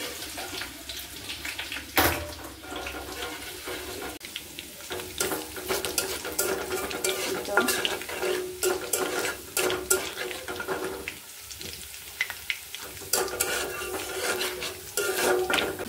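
Chopped garlic tempering in hot oil for greens, sizzling steadily while a spoon stirs and scrapes the pan, with occasional metallic clinks and sharp bursts of crackle throughout.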